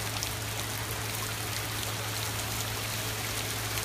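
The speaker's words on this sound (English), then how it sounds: "listen, the rain is falling" Rain falling during Hurricane Harvey flooding in North Houston, a steady faint wash of drops and running water with a low constant hum beneath, no talking.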